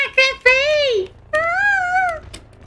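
Cats at a cat cafe meow up close, giving two or three loud, drawn-out rising and falling cries separated by short pauses.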